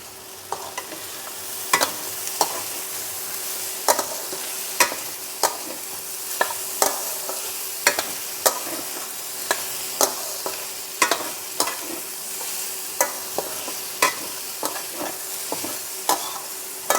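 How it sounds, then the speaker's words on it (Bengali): Spoon stirring mixed vegetable sabji in a pan, with regular scraping strokes roughly once a second over a steady sizzle, close and alone with no talk. "ভালো করে একটু নাড়িয়ে দিলাম।"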